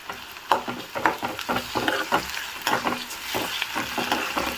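Onions browned with ginger-garlic paste sizzle steadily in a pan while a spoon stirs through them, giving close, repeated scraping strokes over a constant frying hiss.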